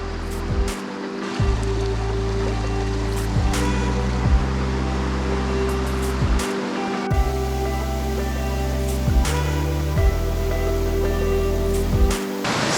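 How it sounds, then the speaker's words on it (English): Water rushes steadily from a waterfall and a flowing river in Meghalaya, India, as a continuous broad roar. Tonal background sounds with a repeating pattern run underneath the water. "There's a waterfall there. You can probably see it and hear it."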